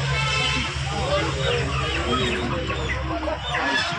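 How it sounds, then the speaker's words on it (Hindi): Aseel chickens cluck and chatter all around in a crowded poultry market, the busy clucking mixed with people talking nearby. "असील की मुर्गियाँ भी भाई यहाँ पे, और आपको देसी भी मिल जाएगी"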